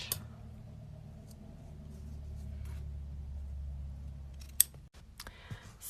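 A single crisp snip of scissors trimming the ribbon ends of a bow cuts through a steady low room rumble near the end, with a few faint handling rustles after it.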